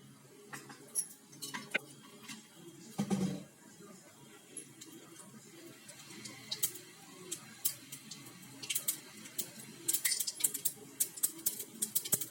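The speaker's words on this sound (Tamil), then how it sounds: "உளுந்தம்பருப்பு எல்லாம் போட்டு தாளிச்சிடலாம்" Mustard seeds and urad dal splutter in hot oil for a tempering, a quiet scatter of sharp pops and crackles that grow denser toward the end, with a brief clatter of utensil contact near the start.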